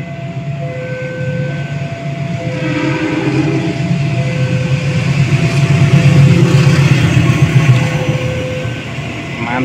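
A train rolls past on the railway near Simpang 7 Joglo, running from Solo Balapan toward Semarang: a loud, steady rumble of wheels with sustained tonal squeals, swelling toward the middle before easing off.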